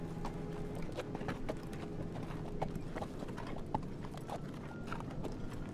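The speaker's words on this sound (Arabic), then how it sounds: "هذا هو حصان، هذا هو حصان." Horse hooves clip-clop steadily on hard ground, a quiet continuous rhythm of light knocks under faint background noise.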